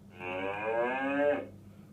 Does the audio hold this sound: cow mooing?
yes